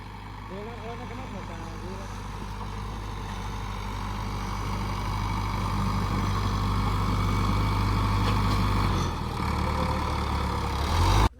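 A heavy tractor engine runs with a low, steady rumble that builds slightly in loudness, while people talk over it.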